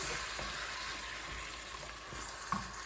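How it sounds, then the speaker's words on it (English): Vegetables and tomatoes sizzle steadily in a frying pan, with soft scraping as a utensil stirs them, close but fairly quiet, and a single clink near the end. "I'm going to stir that around"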